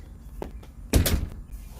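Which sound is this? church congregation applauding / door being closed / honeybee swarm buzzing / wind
door being closed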